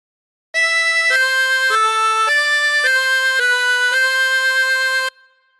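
God Defend New Zealand played on a 16-hole tremolo harmonica, a bright, reedy, wavering melody of about eight sustained notes stepping between pitches, loud and close, ending abruptly with a short fading tail.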